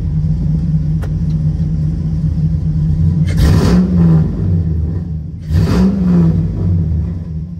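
A 1949 Chevrolet 3100 pickup engine idles with a low, even rumble, then is revved twice in quick surges that swell and fall back, heard loud and close without any talk.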